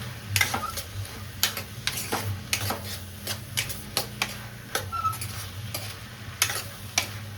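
Pumpkin palya with turmeric being stirred in a pan on the stove, a steady sizzle under repeated scraping and clicking strokes of the spoon, close and alone with no talk.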